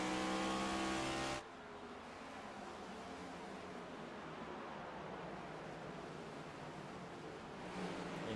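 Onboard race car at Richmond Raceway in a Scrambler Series playoff race, a loud, steady engine roar filling the whole stretch after a sharp drop from a higher-pitched rev at the start.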